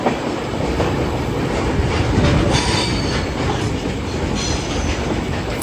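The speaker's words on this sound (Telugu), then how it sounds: "ఒక ఆయిల్ ట్యాంకర్ అనేది గూడ్స్ ఫ్reight ట్రైన్ నుండి క్రాస్ చేసుకుంటూ వెళ్తుంది" Freight train of oil tankers rolling past from close by, a loud continuous roar of wheels on rails with clickety-clack and faint squealing, no voices.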